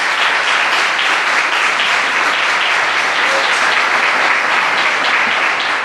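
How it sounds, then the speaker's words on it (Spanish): A church congregation applauding the Lord during a sermon, steady dense clapping from many hands, loud and continuous throughout. "Dar un aplauso al Señor"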